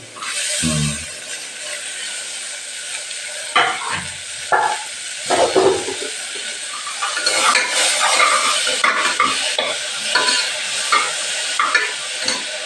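Garlic, onion and tomato are sautéed in a pan, with loud spatula scrapes and metal clatter against the pan over a continuous frying sizzle, no speech.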